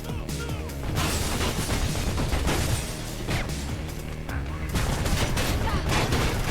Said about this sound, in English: Oh shit, they have a goddamn machine gun.